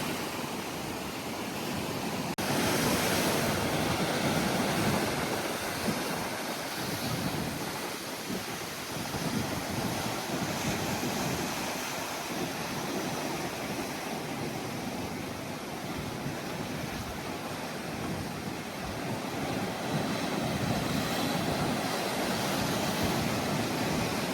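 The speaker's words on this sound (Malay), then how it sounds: "Kalau tepi-tepi ni memang ombak kuat, ada batu je." Strong surf breaks against rocks at the edge of Bondi Beach in Sydney, a dense, continuous roar of crashing water, loud and close throughout with no voices.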